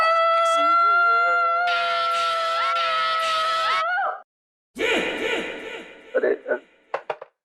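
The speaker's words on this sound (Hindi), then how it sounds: "इतनी जोर से चिल्लाई कि मेरा रेडियो भी बंद हो गया।" A woman screams loudly and at length, a sustained high cry that breaks off abruptly, followed by a short gap and then further shrill vocal sounds tapering into brief bursts.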